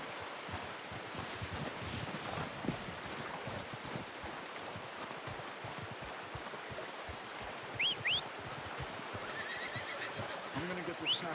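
A horse in the video game Red Dead Redemption 2 whinnies faintly in short high calls, partly buried under a steady rushing wash like wind or surf.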